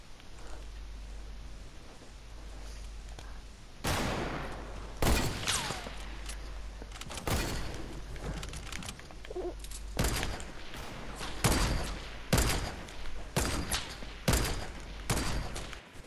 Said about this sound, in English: No, do it with the hunting rifle.